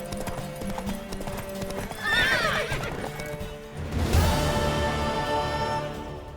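A horse in the video game The Witcher 3: Wild Hunt whinnies loudly over rhythmic hoofbeats, then another rising neigh follows with clip-clopping continuing underneath, close and clear.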